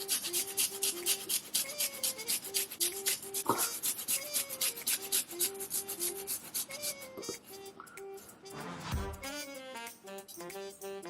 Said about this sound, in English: And then I'm gonna grate some ginger.